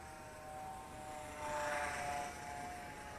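An Eachine Mini P47 Razorback RC plane with a 500mm wingspan flying outdoors, its small electric motor giving a faint, steady whine that swells briefly as it passes nearer, then eases back.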